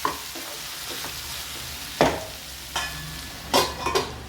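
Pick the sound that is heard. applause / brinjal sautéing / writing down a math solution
brinjal sautéing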